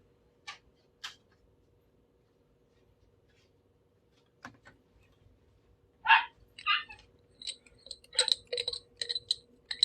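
A few sharp, scattered barks from a dog indoors, quiet at first and then a louder, more rapid burst near the end against a silent room.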